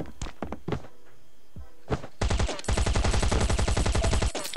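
Gunfire in a battle royale video game: a few separate sharp shots ring out, then a long rapid burst of automatic fire hammers on for about two seconds before stopping.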